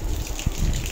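Water gushes from a pipe fed by a motor pump at a house construction site, a brief, steady splashing rush with a sharper burst midway.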